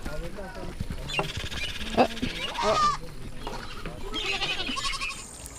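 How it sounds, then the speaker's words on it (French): Goats in a Maasai village in Tanzania bleat several times at close range, with other livestock calls and people talking quietly underneath. "Bienvenue chez les chèvres."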